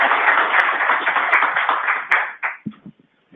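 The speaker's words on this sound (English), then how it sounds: "You can clap." An audience claps at a morning session of an annual meeting, dense and loud at first, then thinning into a few scattered final claps before silence.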